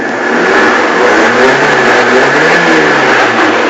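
A Saab 900 Turbo engine held at full throttle, a loud sustained close-up roar with a steady droning pitch and no let-up.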